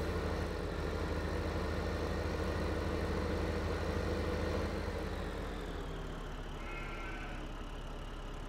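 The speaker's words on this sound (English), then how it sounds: "I can jump in my tractor and bring it around." A tractor engine idles in Farming Simulator 15 during logging work with a winch, a steady low drone that holds throughout and eases slightly in the second half, with no one speaking.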